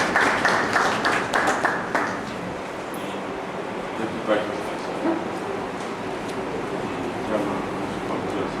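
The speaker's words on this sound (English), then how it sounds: "Your round of applause." Audience applause at a formal gathering, a burst of dense clapping for about two seconds that breaks off into room murmur and scattered sounds, heard fairly close.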